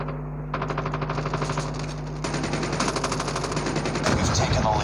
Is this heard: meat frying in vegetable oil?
no